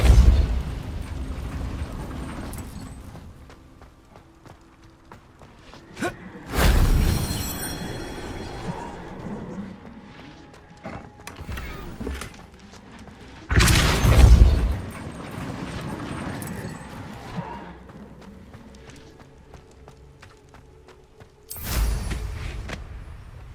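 Confringo blasting spells set off several loud explosions in Hogwarts Legacy. There are about four booming bursts, several seconds apart, each fading into rumbling debris and crackling between the blasts.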